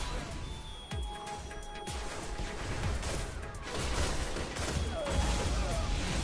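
Sidearm fire in the video game Destiny sounds as quick repeated pops and cracks over busy in-game noise, with a few sharp bursts through the clip.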